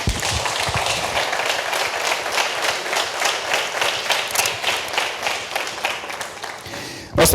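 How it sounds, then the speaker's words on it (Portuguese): Church congregation clapping in sustained applause, a dense steady patter of many hands filling the room, continuing at even loudness before a brief louder burst at the very end. "Se você crer, aplauda o nome dele."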